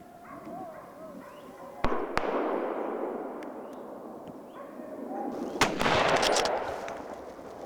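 Sharp rifle shots crack out during a driven boar hunt, two close reports near the start and another burst later, each trailing a rolling outdoor echo, with a voice talking faintly in the background.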